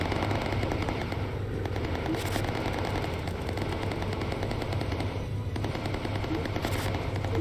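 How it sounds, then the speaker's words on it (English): In the video game Bomber Crew, enemy fighters circle a bomber and fire at it with machine guns: sustained rapid rattling bursts over a constant engine roar, loud and continuous with no voices. "it makes it so much harder to try and tag them when they're circling around your bomber, shooting at it"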